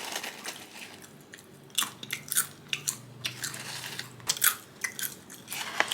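Close-up crunching as someone bites and chews a crispy clean-eating protein snack with a texture like pork rinds: repeated crisp crackles and munching over several seconds, with no talking.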